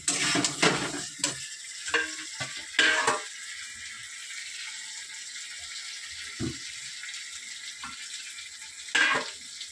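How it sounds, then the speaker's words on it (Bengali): Potatoes stir-fried in a pan, a spoon scraping and clattering in short bursts over a faint, steady sizzle, with a few louder stirring strokes near the start and end. "যেহেতু আলুটা ভাজিনি তাই আলুটা এখন দিয়ে একটু কষবো যাতে ভালোভাবে সেদ্ধ হয়।"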